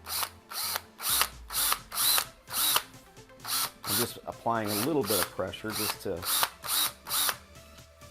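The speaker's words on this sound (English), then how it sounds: "And center it, and then slowly work the drill." A power drill bores out the grill emblem of a 2017 Ford F-150, whirring in repeated short bursts close up while someone talks over it.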